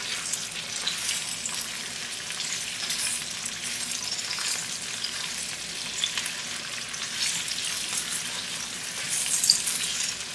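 Potatoes frying with browned onions in a pan for aloo bhujia, a loud continuous crackling sizzle close by that swells slightly near the end.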